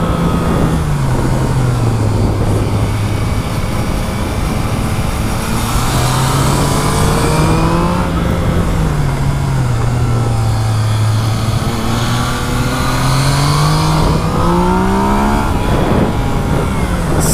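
A 2017 Yamaha MT-09 (FZ-09) motorcycle on a test ride, its engine loud and close, droning and swelling in pitch through repeated rev rises and dips under steady wind rush.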